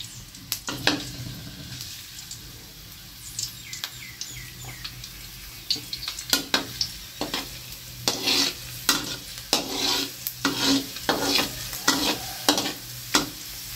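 Garlic frying in a hot pan for stir-fried glass noodles with pork and egg: a steady sizzle with repeated sharp scrapes and clinks of a spatula stirring, close and fairly loud, no voices.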